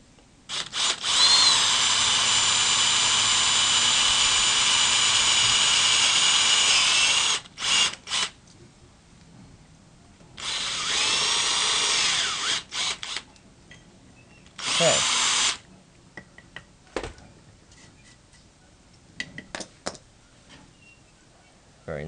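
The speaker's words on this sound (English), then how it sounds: "Now we have to drill a hole where your wire is going to go." A power drill bores a hole about a quarter inch from the end of a copper battery cable connector held in pliers, running in several bursts of steady whine, the longest about seven seconds, then shorter stop-start runs, close and alone.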